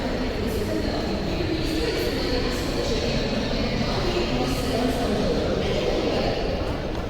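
A Hyderabad metro train runs at the platform, a steady loud rumble and whir of the carriages filling the whole stretch, with voices talking under the noise.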